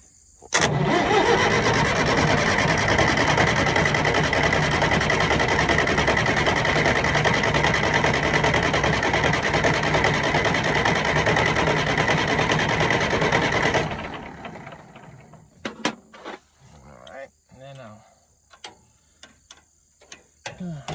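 An engine cranks over and runs loud and steady for about thirteen seconds, then cuts out abruptly, leaving scattered clicks and light mechanical taps.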